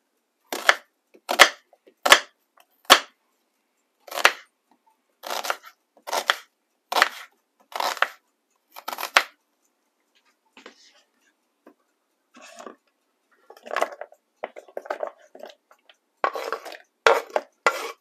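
Onions chopped with a knife on a board for a gaucho pie: a run of crisp, close, evenly spaced chops, then looser, quieter irregular cutting taps, with no talking.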